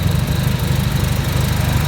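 A Mitsubishi Starion engine runs after a turbo manifold and turbocharger install, a loud, close, steady idle with a deep rhythmic throb and a rough, buzzy texture and no talking.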